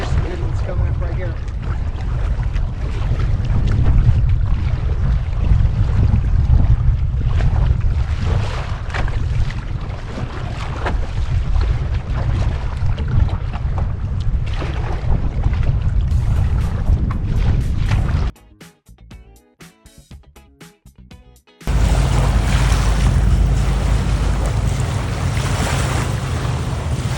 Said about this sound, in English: Right now I am still waiting for the wind to die down.